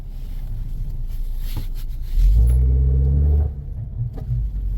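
Ford Escape engine with a broken motor mount idling as a steady low rumble, then a heavier, louder shuddering surge for about a second before easing back, close to the microphone with no talking.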